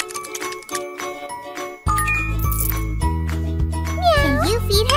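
A cartoon cat in a kids' pet-care video game meows in a bright, synthetic voice over cheerful jingling game music and chimes, with a narrator speaking before the music swells.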